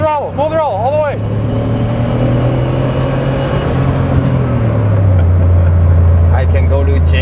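Turbocharged GTO accelerating hard at full throttle in third gear up a mountain road, a loud steady engine drone rising in pitch, heard from inside the car with people talking over it.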